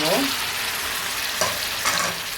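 Chicken pieces for gongura (pulichakira) chicken hit a hot pan and sizzle loudly up close, with scraping stir noises cutting through the steady frying hiss.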